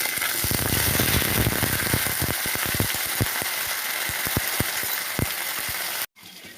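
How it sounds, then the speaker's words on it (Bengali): Eggplant and potato pieces fry in a wok with a loud, steady sizzle and crackle, cut by sharp pops and scraping knocks before the sound suddenly drops away near the end. "এখানে বেগুন আলুটা একটু হালকা হালকা ভাজবো"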